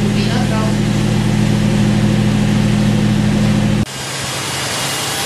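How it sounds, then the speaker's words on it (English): Powerspout LH250 hydro turbine running very fast, a loud, steady mechanical hum with strong low tonal bands. The tone stays constant for about four seconds, then drops to a quieter, lighter whir for the rest of the clip. "Now the turbine is spinning very fast."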